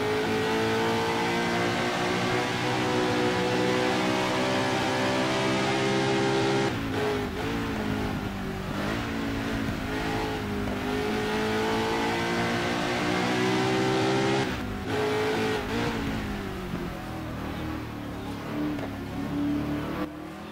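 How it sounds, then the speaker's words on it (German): A Chevy race car in a racing video game roars loudly at a steady high pitch, with two clear gear shifts breaking the whine before it climbs again, and no talk over it. "Jedoch Krach macht auch dieses Auto ganz gehörig."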